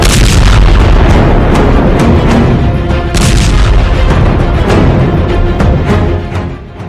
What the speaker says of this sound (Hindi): इसमें ज्यादातर धमाके ऐसे हैं जो हमास की बजाय आम लोगों को निशाना बना रहे हैं।